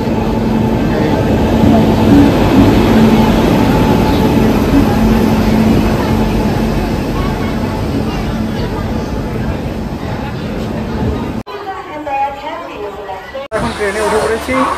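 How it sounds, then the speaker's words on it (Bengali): Darjeeling Mail passenger train pulling into a station platform: a loud, steady hissing rumble with crowd chatter over it for about eleven seconds, then the roar drops away abruptly and quieter sounds follow. "আর এই দার্জিলিং মেল আমাদের এখন ঢুকে যাচ্ছে প্ল্যাটফর্মে।"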